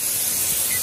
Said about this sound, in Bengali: পেঁয়াজটা একটু ভাজা হয়ে গেছে, তার মধ্যে আদা রসুনের পেস্ট আর কি অ্যাড করে দিচ্ছে